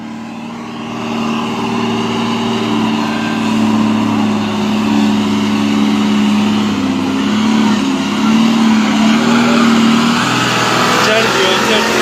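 A truck engine labors and revs while climbing the old Skardu road, a loud, close, sustained growl whose pitch rises and wavers as it strains uphill, with people shouting over it.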